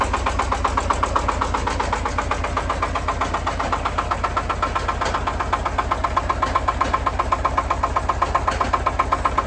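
A Shifeng SF 240 B tractor's small engine idles steadily and loudly up close, a fast even chugging pulse with no talk over it.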